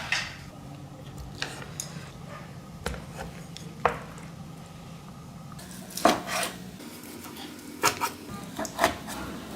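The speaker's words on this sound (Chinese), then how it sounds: "现在捞出来切成块装在碗里上锅蒸" Soaked pork knuckle being chopped into chunks with a kitchen knife, giving several close, irregular knife strikes against a board amid light kitchen clatter.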